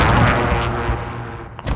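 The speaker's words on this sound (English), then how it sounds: "Throwing frag." A frag grenade goes off in the Call of Duty Warzone Payload mode, a loud, close, broadband blast that rolls and fades over a second or so, with a small thump at the end.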